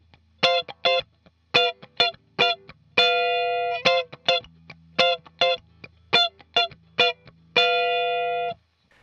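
A funk guitar part from a song, played on electric guitar with effects: choppy muted strums and short stabs in a syncopated rhythm, with a couple of longer sustained chords ringing out, loud and alone.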